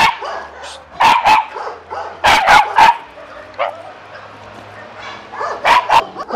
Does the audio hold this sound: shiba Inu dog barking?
yes